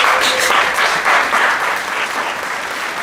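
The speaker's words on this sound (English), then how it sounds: "Clap it up" Audience applause fills a podcast studio, a steady wash of clapping that swells and holds loud throughout, with no voices over it.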